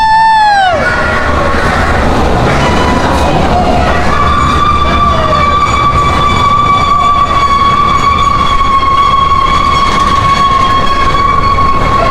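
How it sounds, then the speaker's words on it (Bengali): An amusement park ride train running at Fantasy Kingdom, heard from aboard with a loud continuous rumble, a sharp descending horn blast at the start and a long steady whistle tone that holds through most of the ride. "আমরা অলরেডি ট্রেনের মধ্যে আছি এবং ট্রেনটা চলছে"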